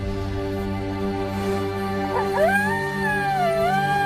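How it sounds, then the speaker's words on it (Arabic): Howling from a wolf, a scene in a TV drama set on a farm: one eerie, wavering howl rises and falls over a steady low background drone, moderately faint and somewhat distant. "هذا عادي صوت ديب بس صوته غريب ورهيب"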